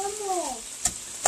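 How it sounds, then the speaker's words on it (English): Chicken chow mein sizzles and fries steadily in a pan, with two sharp, brief clinks of a spatula chopping against the pan near the end and a faint high voice over the frying early on. "We'll just give it a little chop with the spatula here."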